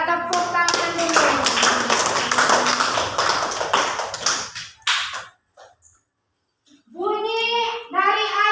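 A class of children claps hands together in a classroom, with a dense, quick patter of claps and young voices chattering throughout. The clapping stops abruptly, then children's voices rise again after a short pause.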